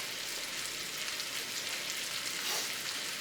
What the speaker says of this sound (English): While our onions are cooking and our lentils are cooking as well